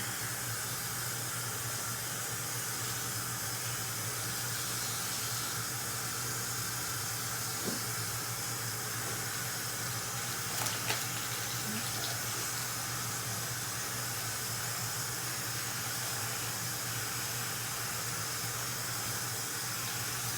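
Tap water runs steadily while braids are rinsed at a sink, a constant close hiss and splash with a low hum underneath, and no talk for about twenty seconds.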